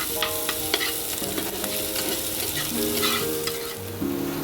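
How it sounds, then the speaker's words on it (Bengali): Ingredients fry in a pan for a Bengali taro leaf stir fry (kochu pata bhaja), browning to a medium color with a steady close sizzle and repeated stirring scrapes throughout. "এবার এটাকে আমি একটু লাল লাল করে ভেজে নেব, খুব লাল না, মিডিয়াম।"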